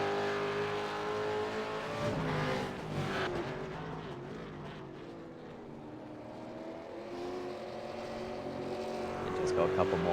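A race car at Silverstone shifting up into sixth gear and braking hard into Stowe corner: a steady, droning engine note that dips and changes pitch, heard under continuous commentary.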